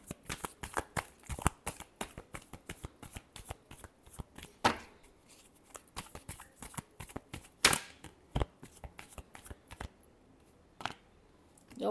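A deck of tarot cards is shuffled close up in rapid riffling bursts. The crisp flutters and slaps come in irregular clusters with short pauses between them. No voices are heard.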